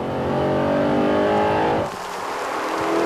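An Audi R8 sports car drives hard with a loud, rising engine roar that climbs steadily, then drops abruptly as the driver shifts or lifts off, settling into a lower rumble.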